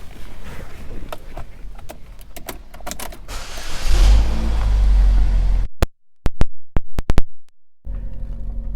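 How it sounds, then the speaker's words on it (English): Power moonroof on a 2013 Chevrolet Equinox, with a steady electric motor hum and a rising whir heard inside the cabin. A few sharp clicks and thumps follow as it stops, then a low, quiet hum continues. "power moonroof"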